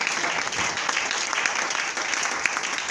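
A church congregation applauding during a sermon, dense continuous clapping from many hands filling the room for several seconds, loud and steady.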